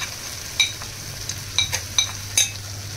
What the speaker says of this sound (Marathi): सगळं असं मिश्रण एकजीव करून घेऊया.